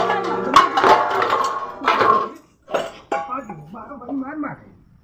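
Metal kitchen pots and utensils thrown about at a rowdy Holi celebration, clattering and clanging loudly in bursts while voices talk and shout over the racket.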